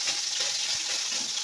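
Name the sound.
fish frying in oil for a sour curry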